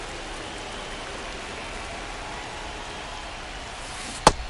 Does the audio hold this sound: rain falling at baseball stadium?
yes